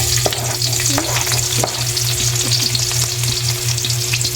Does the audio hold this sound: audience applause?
no